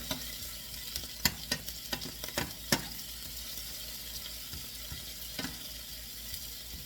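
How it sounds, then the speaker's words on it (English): Beaten eggs seasoned with smoked paprika are stirred for a spicy omelette, with a cluster of sharp utensil taps and clicks against the bowl early on, then quieter stirring with a faint hiss behind. "Give this a little stir."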